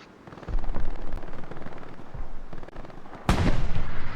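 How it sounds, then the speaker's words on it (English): An anti-aircraft cannon fires in the World War II shooter Hell Let Loose. Loud, rapid bursts of heavy gunfire come in sustained volleys, with a sharp, louder burst near the end. "The AA cannon."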